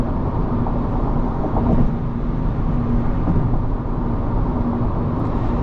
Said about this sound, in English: Definitely a decent amount of ambient noise coming in from the wind, from the tires, from the road.